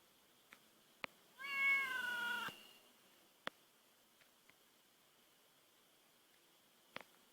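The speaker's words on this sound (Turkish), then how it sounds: "Ee, şimdi buraya bir kedi çağırayım ben." A single clear cat meow from The Sims FreePlay rises and falls for about a second in a quiet setting, with a few faint clicks scattered around it.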